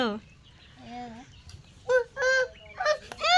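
Chickens in a village yard where onion seedlings are being planted, with a few short squawking calls and clucks heard nearby between quieter stretches.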